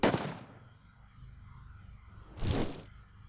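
Two booming gunshots from the turn-based game Braveland Pirate, one opening sharply and another about two seconds later, each with a short rumbling tail over a low, quiet background and no talk.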